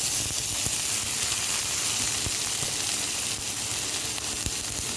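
Chopped tomato drops into hot oil with fried onion and sizzles steadily, a loud, continuous frying hiss with faint crackles and no talk.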